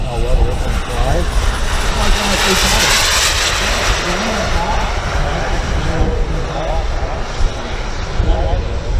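An RC jet airplane flies at the Joe Nall RC fly-in noon demo in 2022, its loud continuous whooshing engine roar swelling and fading as it passes, with a voice talking over it.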